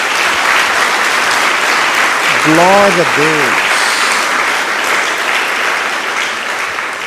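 Church congregation clapping in praise to Jesus during a service, a continuous wash of applause with a voice briefly speaking over it partway through.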